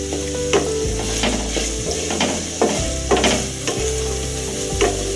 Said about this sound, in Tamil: பேஸ்ட்டு போட்டு 1 நிமிஷம் கிண்டி விட்டுக்கணும்